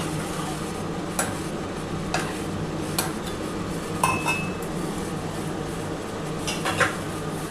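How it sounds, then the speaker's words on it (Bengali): A metal lid goes onto a pot of katla fish curry simmering on low gas, with several light clinks over a steady background hiss. "আমি এই ঢাকাটা দিয়ে দিলাম"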